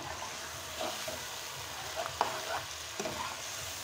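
Onions going into chicken karahi gravy in a frying pan give a steady, moderate sizzle, with a few soft stirring scrapes and clatters on top. Nobody speaks.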